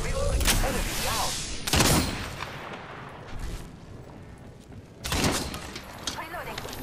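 Gunfire bursts crack out in an Apex Legends match, several loud volleys spread across the moment amid constant game noise, with a voice talking over it.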